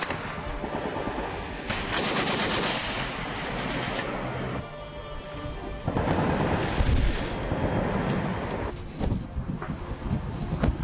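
Gunfire from rebel snipers during an ambush on a company of Marines at a front line, heard as loud, sharp bursts and rolling reports that come in several clusters over steady wind noise, with no talk.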